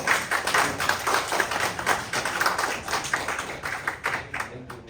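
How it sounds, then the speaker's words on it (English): An audience at a startup pitch session claps in a steady, moderately loud round of applause that carries on for several seconds before thinning out at the end. "Give a round of applause"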